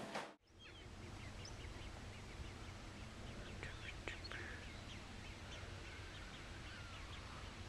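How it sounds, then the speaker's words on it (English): Ducks call faintly outdoors in Arnhem, the Netherlands, a few soft quacks scattered over steady low background noise, with no one speaking. "would go nuts right now because of the ducks"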